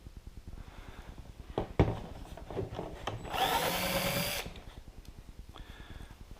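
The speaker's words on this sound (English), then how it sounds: "I'm going to go in at an angle, at the angle I want, pretty flat, and drill through that support." A power drill whirs in short bursts, then grinds steadily for a couple of seconds through a support on a 2014 Can-Am Spyder RT before stopping, with a rhythmic mechanical ticking underneath.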